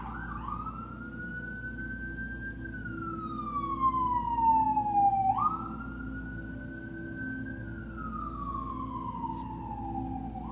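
A siren wails in long rising and falling sweeps, loud and steady, with a low engine rumble underneath as it passes.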